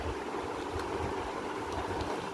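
Cold water poured into a container already holding black salt, white salt and lime, a continuous close rushing and gurgling flow at steady volume.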